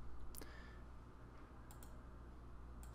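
Computer mouse clicks on an office PC while confirming a setting in asset-management software, a few sharp faint clicks spaced apart over a low steady hum.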